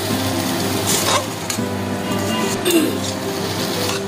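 Homemade noodles are tossed with sauces in a pan, giving a soft, steady scraping and stirring sound with a few light clinks of utensil on metal. No one speaks.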